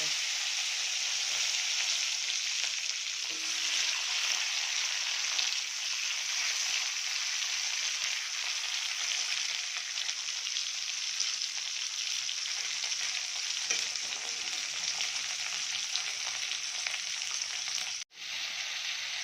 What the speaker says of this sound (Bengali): এবার আমরা কড়াইতে টমেটো দিয়ে দিলাম।